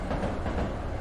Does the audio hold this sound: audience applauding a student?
no